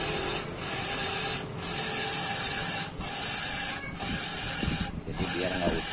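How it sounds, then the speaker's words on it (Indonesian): Carburetor cleaner sprayed from an aerosol can onto the in-tank fuel filter of a Toyota Avanza: five or six loud, close hissing bursts in an even rhythm, split by brief gaps, with some low voice murmur underneath. "Kita semprot pakai karburator ini."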